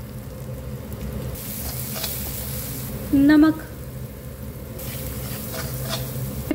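Masala spices sizzle and fry in a pan for a lauki kofta curry, with a steady hiss and occasional stirring scrapes. A brief spoken word breaks in over the frying.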